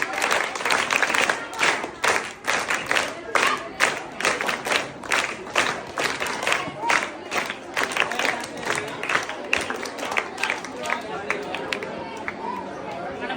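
A school audience claps steadily to welcome performers onto the stage, the applause dense and sustained with crowd chatter mixed through it.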